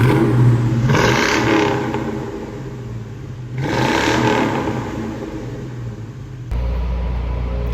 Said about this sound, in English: I got my buddy that's gonna go ahead and start the car up.